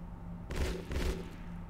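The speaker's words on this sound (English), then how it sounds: "I have a burst fire on him." A burst of gunfire in the video game Shadowrun Chronicles, with two short, dense volleys close together over a steady low background hum.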